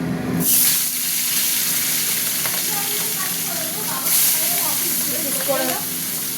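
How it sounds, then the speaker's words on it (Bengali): Pomfret fish dropped into hot oil in a home kitchen, a steady bright sizzle and crackle that surges as the pieces go in, continuing throughout, with a faint voice speaking underneath. "তেল গরম হয়ে গেছে, মাছ দিয়ে দিচ্ছি।"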